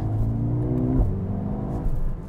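Mercedes-Benz A35 AMG engine revving up through quick gear shifts, rising engine tones with a sharp drop at a shift, then climbing again, heard from inside the car, loud and continuous without talk.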